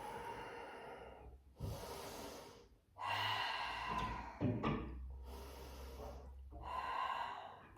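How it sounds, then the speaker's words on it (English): Several slow, audible breaths taken close by while resting in yoga child's pose, each inhale and exhale a soft airy rush separated by brief pauses. "Couple breaths here"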